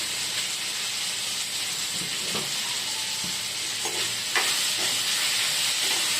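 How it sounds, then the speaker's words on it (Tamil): Onions with salt sautéing in oil in a pan for onion chutney, a steady close sizzle and hiss with occasional stirring scrapes and clicks, and no talk. "அப்படியே நல்லா வதங்க விடுங்க"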